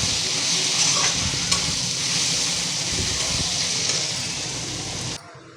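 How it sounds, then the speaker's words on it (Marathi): Onion and tomato sautéed in a pan over a high flame, a loud continuous close sizzle with faint stirring scrapes, cutting off abruptly near the end, no talking. "मोठाच गॅस ठेवला आहे, मोठ्या गॅसवर चांगलं परतून घ्यायचं,"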